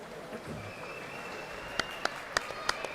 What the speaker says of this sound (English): Everybody in the crowd just clapping for both these two teams